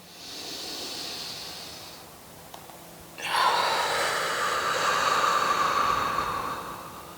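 Steady breathing during a yoga cat-cow stretch: a soft airy inhale fades out, then after a brief pause a louder, sustained exhale rushes in close to the microphone.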